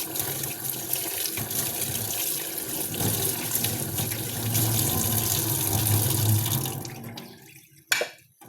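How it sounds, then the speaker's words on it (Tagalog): A cloth rag being washed under a running tap, with steady water streaming and splashing close up for most of the stretch, then stopping abruptly and leaving a brief sharp knock near the end. "atong labahan ang trapo kaya para limpyo atong trapo permi"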